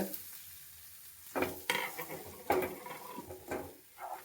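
Already roasted semolina is roasted again in a pan, quiet at first, then a few distinct scraping strokes of stirring spaced about a second apart over a faint dry sizzle.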